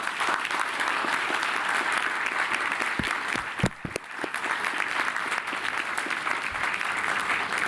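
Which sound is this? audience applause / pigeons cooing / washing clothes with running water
audience applause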